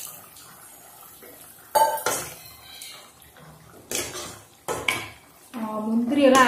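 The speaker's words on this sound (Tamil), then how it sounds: "இப்போ நம்ம மூடி வச்சிடலாம்." A lid goes onto a pot of simmering chicken curry with cashews and water on a home stove, giving a few sharp metallic clanks and rattles among other kitchen clatter, with a bubbling, sizzling cook sound rising at the end.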